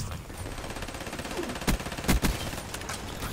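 An HLX 4 gun fires in a video game, giving a rapid stream of close automatic shots with a few louder, punchier bursts near the end.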